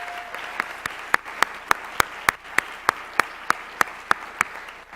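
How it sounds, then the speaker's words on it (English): Audience at a National Honor Society ceremony claps for student speakers, sharp distinct claps in a steady rhythm, moderately loud and close, with no talking over it. "let's give our student speakers one more round of applause"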